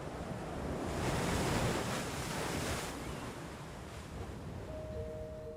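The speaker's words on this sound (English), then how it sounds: "Bright aqua waters crash against tall, ragged cliffs" Bright aqua ocean waves crash against tall, ragged cliffs at Channel Islands National Park, a broad continuous surf roar that swells and recedes with steady wind noise, loud and close with no voices.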